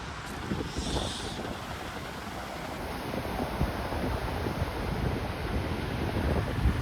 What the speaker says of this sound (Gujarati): મસ્ત ખુલ્લી ખુલ્લી હવા આવે ઠંડી ઠંડી